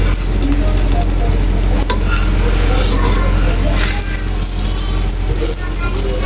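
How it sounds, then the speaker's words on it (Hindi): Ghee sizzles under a makki ki roti on a griddle, a loud, dense, continuous frying hiss with scattered clinks and scrapes, and voices can be heard over the cooking. "अब नीचे वाली साइड पे घी लगाते हैं।"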